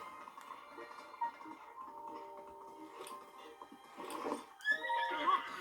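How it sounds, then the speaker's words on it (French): A horse in a video game whinnies in a clear, moderately loud neigh near the end, over a quiet ambient game soundscape with faint tonal background and light clopping. "Ouah, ce cheval, c'est le portrait craché de mon canasson en cavale."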